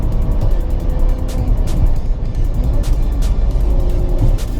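Maserati Levante S Q4 GranLusso SUV accelerating hard from inside the cabin, a loud sustained engine roar and rumble with a few brief shifts in tone along the way.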